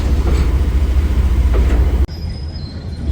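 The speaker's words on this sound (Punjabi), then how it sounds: "ਇਹ ਆ ਲੋ ਆਪਾਂ ਇੱਥੇ ਤੁਹਾਨੂੰ ਦਿਖਾ ਦਿੰਨੇ ਆ ਟ੍ਰੇਨ ਡਬਲ ਜਿਹੜੇ ਆ ਇੰਜਨ ਲੱਗੇ ਹੋਏ ਆ" A loud train hauled by two locomotives rumbles past up close at Dhuri railway junction, with rattling wagons and a squeal of wheels, then cuts abruptly to a quieter hum with a faint high whine.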